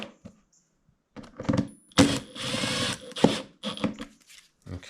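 A power screwdriver drives screws into the plastic inverter cover of a Champion 2500 dual-fuel generator, model 201183, in short whirring bursts with clicks and handling noises between them.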